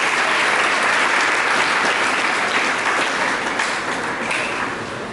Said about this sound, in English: A mighty hand clap for that team.